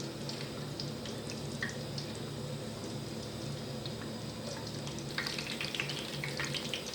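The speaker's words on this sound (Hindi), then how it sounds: "उनको मोटा मोटा काट लिया, वो डाल देंगे। तो लाइटली हम लोगों ने बस फ्राई करना है इसके अंदर।" Coarsely chopped garlic cloves frying lightly in oil for mango pickle, a steady close sizzle with scattered pops and spatters that grow busier near the end, no voices.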